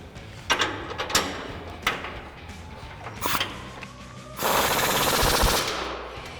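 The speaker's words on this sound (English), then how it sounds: "get my 27mm wrench on the nut side and 21mm socket on the bolt side and tighten this down" A ratchet with a wrench and socket tightens a strut nut and bolt on an F-150 front leveling kit, giving a series of sharp clicking bursts followed by a longer continuous rapid ratcheting run.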